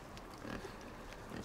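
A pig in the side-scrolling puzzle game INSIDE grunts softly twice, a short snort early and another near the end, faint over a steady ambient game background.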